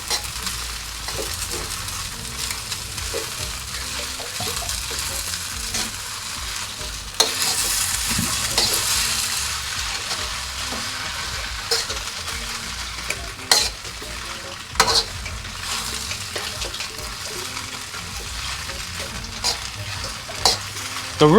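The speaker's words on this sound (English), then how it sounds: "And then we just mix it up." Rice noodles stir-fried in a pan with char siu roast pork, eggs and sprouts for Chinese sweet and sour noodles. A steady, close sizzle runs throughout, broken by scraping and clattering stirs, with no talk.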